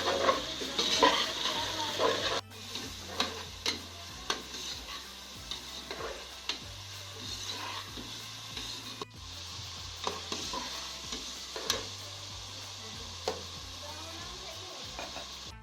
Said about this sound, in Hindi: सबसे पहले हम चिकन फ्राई करेंगे